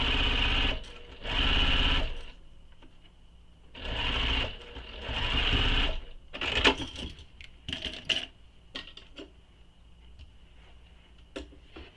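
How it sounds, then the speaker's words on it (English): A sewing machine stitches a bag seam in several separate runs, each a loud, close mechanical whir lasting about a second. Clicks and small handling taps fill the pauses between runs. "Sewing this with the seam allowance given in the pattern."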